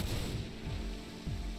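Gunfire in the Final Fantasy VII: Dirge of Cerberus video game, a few muffled booming shots in quick succession under a dense, noisy game soundscape.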